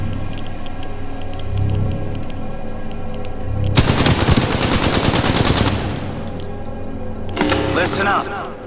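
Rapid machine gun fire in the shooter game Titanfall 2 crackles in a loud sustained burst midway and again briefly near the end, set over a rumbling battle backdrop with radio-style voices talking.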